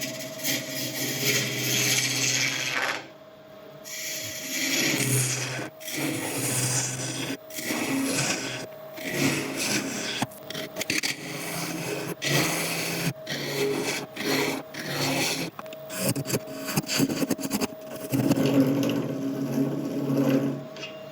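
A woodturning lathe cuts a tenon in a wood blank, giving a gritty scraping and rasping texture with a steady motor hum underneath, broken by several brief pauses and restarts, close and fairly loud.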